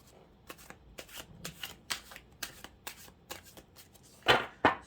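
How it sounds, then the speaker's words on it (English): Tarot and oracle cards are shuffled up close in quick, crisp riffling bursts, ending with two louder shuffles. "I'll just pop these to just give them a quick shuffle for you"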